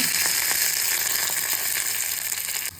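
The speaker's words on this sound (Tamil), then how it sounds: "இனி இதுக்கு ஒரு தாளிப்பு கொடுத்துடலாம்" Steady, bright sizzling of spices, shallots and curry leaves tempering in hot oil for beetroot rasam, close and continuous, with faint crackles and pops throughout.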